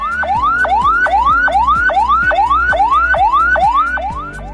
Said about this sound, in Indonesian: Jenis sirene kedua berarti ambulans sedang membawa pasien yang tidak darurat,